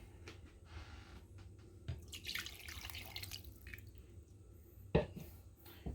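Milk pours into a bowl holding flour, sugar, baking powder, eggs and butter for cake batter, a short, soft liquid splash in the middle of a quiet kitchen with a few faint clinks.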